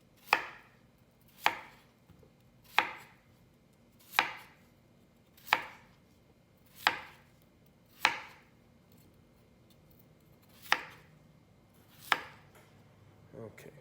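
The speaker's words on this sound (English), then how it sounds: "And then with the potato, we're going to also roll cut it." A knife roll-cuts potato on a cutting board for nikujaga, producing about ten crisp, evenly spaced chops, each a sharp close thud with short pauses between.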